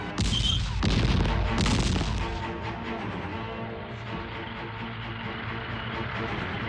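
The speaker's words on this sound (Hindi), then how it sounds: "इसलिए आर्टिलरी फायरिंग हो रही है, टैंक्स की आवाज को दबाने के लिए" Artillery and tank battle in a war film scene at Longewala, opening with loud heavy blasts and booms that settle into a dense, continuous rumble of distant shelling and armor.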